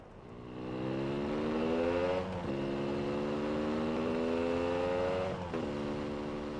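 A motorcycle ridden by a high-school student in an anime drones steadily with a harmonic engine tone that rises slightly in pitch through two gear shifts, close and sustained.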